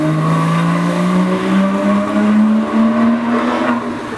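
A Porsche Boxster engine passing on a city street, a loud steady engine note rising slightly in pitch as it drives past close by, with no talk over it.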